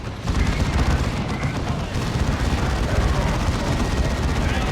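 Purgation Space Marine squads fire their weapons in a Dawn of War 2 battle against Chaos and Orks, a dense, loud, continuous rattle of gunfire and booming blasts with no pauses.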